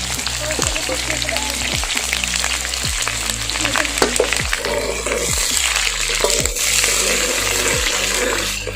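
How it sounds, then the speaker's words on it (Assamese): Chopped onions fry in a pan for an Assamese duck and potato curry, a loud, dense sizzle running throughout with a low background hum and occasional stirring, close up. "এতিয়া মানে পিঁয়াজটো পূৰা ৰঙা হোৱালৈকে ভাজিম।"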